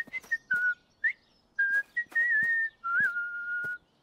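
A cartoon character whistles clear, sliding tones in short separate phrases with brief pauses between, some notes bending up and down, close and alone without speech.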